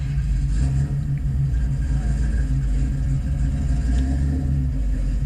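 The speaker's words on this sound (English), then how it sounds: "We can see the car, you can see it driving off, you can hear it and everything." A Camaro car drives off with a loud, steady low engine rumble that stays constant throughout, with no voices.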